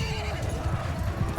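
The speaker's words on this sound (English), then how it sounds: "Not a lord, but an enemy horse." A horse whinnies over dense clip-clop of hooves in Mount & Blade II: Bannerlord, loud and busy, with battle noise filling the background.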